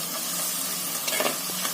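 Onions sizzle and fry in a clay pot for white kuruma, with a continuous hissing crackle and a few soft scraping stir strokes near the end, close and moderately loud.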